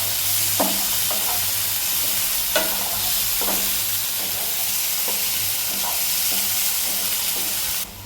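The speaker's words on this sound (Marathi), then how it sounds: "बारीक पॅनवर ही खरडा आपला तडका मस्तपैकी घेऊन घ्यायचा" Raw mango thecha tempering frying in a small pan, a loud steady hiss of oil with periodic scraping stir strokes, close and without speech.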